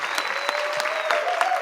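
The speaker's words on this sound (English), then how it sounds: "Your hands hurting from clapping?" An audience at a startup pitch event applauds steadily, a dense, even patter of many clapping hands sustained throughout.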